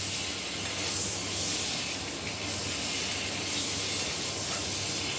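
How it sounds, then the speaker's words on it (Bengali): Eggs rubbed with salt and turmeric frying lightly in mustard oil in a wok, giving a steady, close hiss that runs unbroken and fairly loud. "আর এবার আমরা ডিমগুলো খুব হালকা করে একটু ভেজে নেব।"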